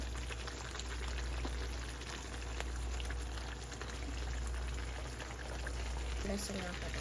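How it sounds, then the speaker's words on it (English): A pot of water is boiling with spaghetti, carrots, green beans and corn added, giving a steady bubbling hiss and seething rumble throughout, moderately quiet, with no clear speech over it. "I'll go ahead and put in my spaghetti now."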